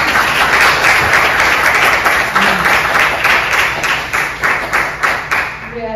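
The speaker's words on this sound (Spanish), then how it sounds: "yo quería pedir un aplauso para los exponentes de hoy." An audience at a lecture event gives sustained applause for the speakers, many hands clapping loudly and steadily, then thinning into more distinct individual claps toward the end.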